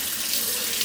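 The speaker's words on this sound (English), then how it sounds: "so let's get some cold water going" Cold water running from a tap into a sink, a steady, close, full-bodied rush of water with no talk over it.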